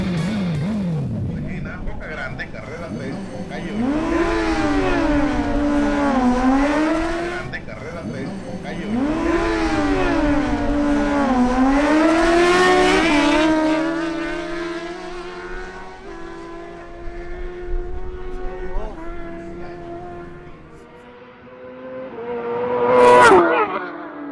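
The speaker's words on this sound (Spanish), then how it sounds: "Ahora tenemos un duelo entre la Suzuki GSX-R1000 de César Camacho versus la Honda CBR1000RR de Adrián Murcia." A Suzuki GSX-R1000 and a Honda CBR1000RR sport bike drag race at a strip, their engines revving in rising, shifting howls that build through the gears and fade into the distance, with an announcer talking over them.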